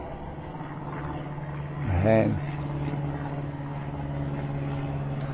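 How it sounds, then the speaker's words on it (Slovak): A plane drones steadily overhead above the Brezina flow trail in Trenčín, a low continuous hum heard from the forest. A voice calls out briefly partway through. "Letí lietadlo."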